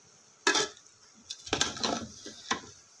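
Cooked chicken biryani being stirred in a pot, a sharp metallic scrape followed by a longer run of spoon scraping and soft rice shuffling, close and without speech.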